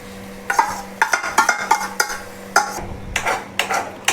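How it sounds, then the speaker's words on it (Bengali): A spoon stirs and scrapes in a pan as tomato puree goes into fried spice masala for a jackfruit curry, with a rhythmic series of clanking scrapes over a faint steady sizzle. "এখন এটার মধ্যে দেওয়া দেবো টমেটোর পিউরিটা"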